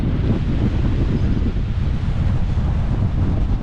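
Strong wind buffeting the microphone on a freezing, frosty Lake District winter morning at a subzero wild camp, a constant loud roar with no break.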